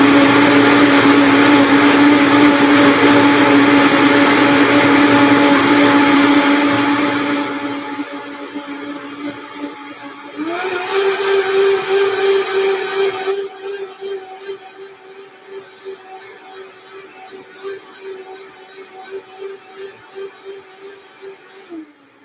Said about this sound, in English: So let's blend again.